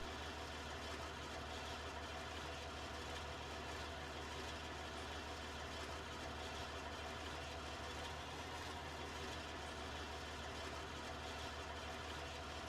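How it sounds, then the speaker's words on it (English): A tractor engine idling in Farming Simulator 19, a steady, continuous mid-to-low rumble that stays even and unbroken throughout with no talk over it. "I am enjoying this new tractor"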